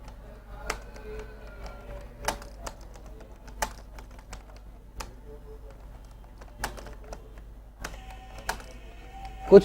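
Keys clack on a computer keyboard as someone types a word, sparse irregular taps standing out over a low steady hum, fairly close and quiet, with a slightly louder burst at the end.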